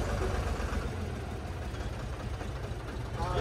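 A tractor engine runs at a steady idle in a parking spot during a long road trip from Nashik, giving a continuous low rumble that holds at an even, fairly loud level throughout.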